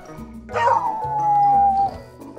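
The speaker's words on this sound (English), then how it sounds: "Beagle" A cartoon beagle gives one loud, close bark that stretches into a long, whining howl, with nothing else around it.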